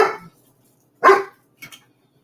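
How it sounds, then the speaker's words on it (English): A dog barks in three short bursts spaced apart, a loud sharp bark, then another, then a quicker doubled yip, close by in an otherwise quiet kitchen. "What are you barking about?"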